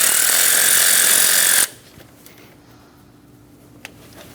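A loud, steady power-tool whir snugs down the negative battery terminal bolt on a 2008-2015 Scion xB, running close for about a second and a half before cutting off to near silence.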